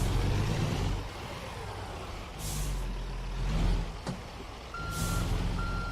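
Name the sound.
truck reversing beeps in video game American Truck Simulator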